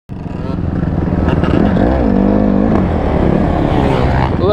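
Dirt bike engine idling and revving steadily after restarting, close and loud throughout, with a rising and falling pitch as the throttle is worked, while people talk over it.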